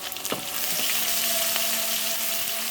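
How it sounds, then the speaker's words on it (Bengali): Onion fries and sizzles in a pan while dried bujuri shutki fish is being cooked. A dense, even hiss is broken by a few scraping stirs near the start. "প্রথমে ভেজে নিচ্ছি, এখন পেঁয়াজটা দিচ্ছি আমি।"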